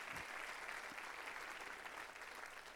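A congregation claps during a Portuguese-language church service, producing a continuous wash of applause from many hands, heard evenly from a distance at moderate volume.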